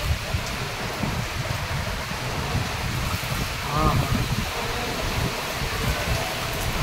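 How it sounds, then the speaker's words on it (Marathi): Heavy unseasonal rain falls in Pune as a steady, dense hiss and wash that fills the whole stretch, with a brief voice heard partway through. "कसला पाऊस जोरदार चालू आहे"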